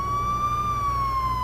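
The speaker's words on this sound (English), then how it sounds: "A police car arrives to transfer Fisk to a secure location." A police car siren wails steadily as the vehicle arrives, one sustained, slowly gliding tone that is loud and close and fills the clip with no talking.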